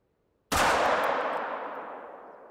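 A single .357 revolver shot at a roe deer in the hunting video game Call of the Wild, a sharp sudden crack after silence followed by a long fading echoing tail.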